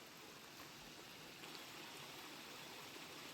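Water rushes steadily along a forest stream, a dense, unbroken hiss and gurgle of flowing runoff after rain on a darkening evening, close by with no voices.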